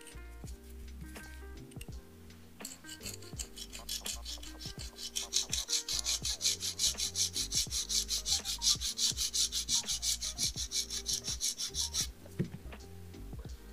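A nail file rasps rapidly back and forth across an almond-shaped acrylic nail, close and steady, building into a fast, even scratching rhythm before stopping, with faint taps and music underneath.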